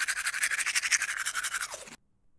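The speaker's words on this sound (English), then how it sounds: "Toothbrush." A toothbrush scrubs in quick, even strokes, a close, bristly rasping rhythm that runs about two seconds and then stops abruptly.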